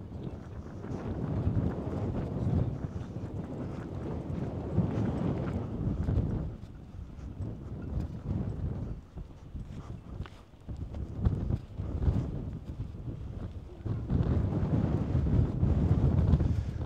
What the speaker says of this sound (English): Very windy today, yeah.